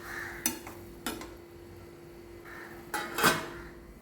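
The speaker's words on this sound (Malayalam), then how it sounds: "ആവശ്യത്തിന് ഉപ്പ് ചേർത്ത് നന്നായിട്ടൊന്ന് ഇളക്കി കൊടുത്ത് നമുക്കിതൊന്ന് മൂടി വെക്കാം" A spoon stirring salted water in a cooking pot before it is covered: a few scattered metallic clinks and scrapes against the pot over a quiet kitchen background, with no speech.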